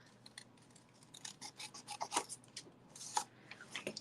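Scissors snipping around the edge of a handmade paper card decorated with stars, a close run of quick crisp cuts and rasps that gets busier and louder toward the end, with no voices.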